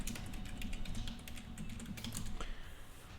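Typing on a computer keyboard while playing the online game Everquest, a fast uneven run of close clicking keystrokes with a short pause near the end.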